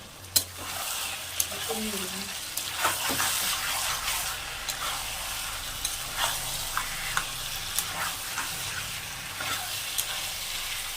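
Mutton kosha cooking in a pan, a steady loud sizzle and fry with scattered clinks and scrapes of a spoon stirring throughout.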